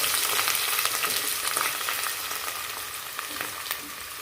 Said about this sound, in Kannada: ಇದನ್ನು ಫ್ರೈ ಮಾಡೋಣ ಈರುಳ್ಳಿ ಸ್ವಲ್ಪ ಕೆಂಪಗೆ ಫ್ರೈ ಮಾಡ್ಕೋಬೇಕು